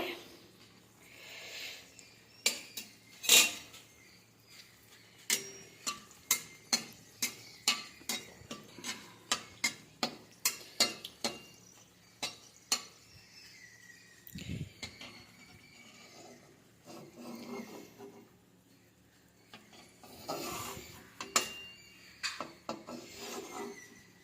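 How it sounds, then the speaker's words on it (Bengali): Green chillies stirred in a pan while frying, a spatula scraping the metal in a long run of quick, regular rasping strokes, close and clear, with a few looser clanks toward the end. "লঙ্কাটা দিচ্ছি, লঙ্কাটাও ভেজে নিচ্ছি ভালো করে।"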